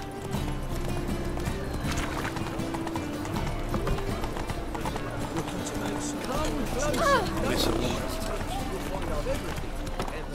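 A horse gallops in The Witcher 3 video game, with steady clip-clop hoofbeats running loud and continuous throughout, joined by a brief whinny and game voices speaking over it.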